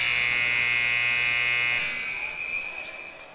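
A loud, steady electronic horn blares through an ice hockey arena at the end of a period in a U18 game between the North Bay Trappers and the Timmins Majors, then cuts off, leaving crowd noise and faint whistles.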